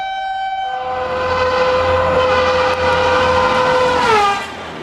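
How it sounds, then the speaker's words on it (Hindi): A loud, sustained Indian Railways train horn blares for several seconds over the rumble of a passing train, then bends downward in pitch as it fades. "रेलवे में सफर के दौरान कई बार हमें ट्रेन का हॉर्न सुनाई देता है।"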